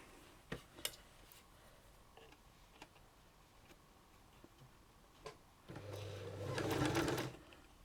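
A home sewing machine back-stitching fabric ruffles: a few faint ticks and clicks, then a short whirring run of stitching near the end, close and quiet in an otherwise calm room.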